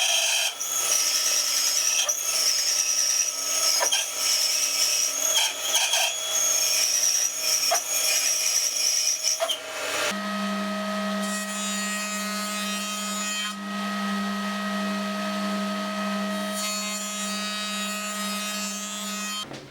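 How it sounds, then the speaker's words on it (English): A WoodRat machine saws wood strips with a loud, continuous rasping whine that drops to a steadier, lower drone about halfway through. No one speaks. "It is sawn in the same way, just a little wider than the crosscut, planed up, one clean side of each strip."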